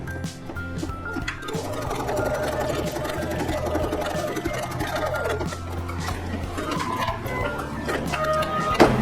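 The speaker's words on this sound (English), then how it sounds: "we're going to stitch the first placement line," An embroidery sewing machine stitches a placement line, a continuous busy mechanical whirring and rapid clicking held at a steady moderate level throughout.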